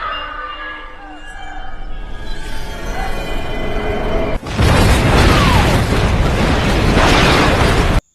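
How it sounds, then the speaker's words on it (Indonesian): A huge bomb explosion erupts abruptly midway, following a rumbling, tense buildup, then a loud sustained roar of fire and debris fills the rest. "menembak bom yang menyebabkan ledakan besar terjadi"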